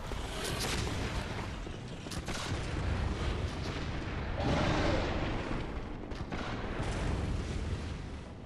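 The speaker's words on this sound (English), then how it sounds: "Like something just exploded right there?" A loud explosion in Bloodborne swells into a rumbling blast mid-way, amid continuous booming, crashing game noise with no talk.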